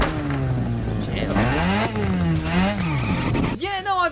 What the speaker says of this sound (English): It's got a cool engine sound.